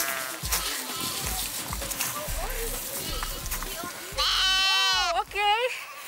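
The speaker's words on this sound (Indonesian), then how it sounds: "Ia mengembalakan domba-dombanya untuk mencari rerumputan." Sheep bleat repeatedly as a flock is herded out to graze on spring pasture in Turkey, several nearby wavering cries rising over background shuffling, with a voice talking.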